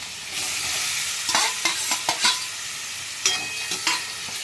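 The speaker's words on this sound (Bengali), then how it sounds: "আমি ডিমগুলো দিয়ে দিচ্ছি" Duck eggs go into a simmering curry in a pan, with a steady bubbling hiss broken by several sharp clinks and scraping stirs, close and clear with no talking.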